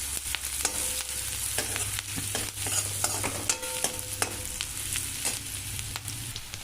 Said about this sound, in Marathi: आता आपला कांदा छान असा तेलामध्ये भाजला गेलाय, याचा कलरही बदललाय।